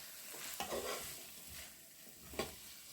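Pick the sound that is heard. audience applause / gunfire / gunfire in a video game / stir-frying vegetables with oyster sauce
stir-frying vegetables with oyster sauce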